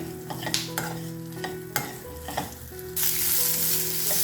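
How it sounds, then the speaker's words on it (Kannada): Onions frying in a pan for sambar, a close, crackling sizzle with repeated scraping stir strokes and bright clinks, swelling into a louder, steady hiss near the end; no talking. "ನೋಡಿ ಈ ಥರ ಫ್ರೈ ಮಾಡ್ಕೊಬೇಕು ಚೆನ್ನಾಗಿ"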